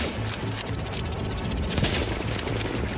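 Gunfire in the video game The Division, a rapid continuous volley of shots at steady loudness for about three seconds, with a dense low thudding rhythm and no speech.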